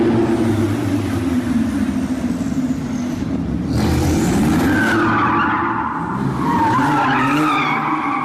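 A Porsche 911 Turbo drifts with its tires skidding and squealing in a loud, continuous smear of rubber noise over engine roar, rising and shifting in pitch across the whole stretch.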